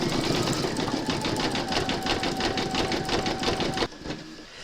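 An in-the-hoop embroidery machine sews satin stitches for the cheeks and nose on bunny slippers, a loud, steady rapid whirring chatter that runs for nearly four seconds, then stops abruptly into quieter handling.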